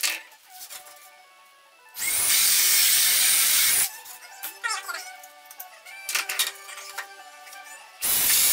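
A power drill bores holes, with two loud sustained whirring bursts and a third starting at the end, separated by clattering handling noises and talking in Dutch.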